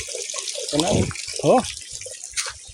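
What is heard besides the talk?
water flowing from a spring source into a tank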